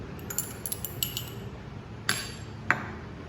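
Glass stirring rod clinking against lab glassware while a buffer solution is stirred during a chemistry practical: a few light, bright taps early on, then two sharper clinks, close and fairly faint over quiet room noise.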